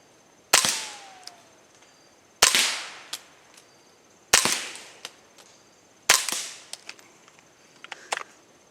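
Four sharp muffled cracks of suppressed gunfire fired into dirt, spaced a couple of seconds apart, each with a brief decaying tail, followed by a few faint clicks.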